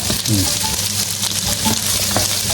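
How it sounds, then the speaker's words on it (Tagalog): Onion and garlic stir-fried fast in a hot pan, a steady loud sizzle with frequent scraping stirs, close up and with no talking. "Yung stir fry na mabilisan."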